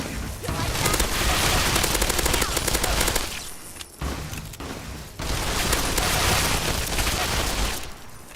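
Gunfire in Fallout 3 during a fight with an albino red scorpion in the Capital Wasteland: loud, dense bursts of rapid automatic fire with brief pauses between volleys, close and continuous.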